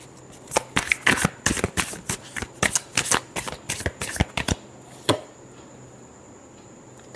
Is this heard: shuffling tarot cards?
yes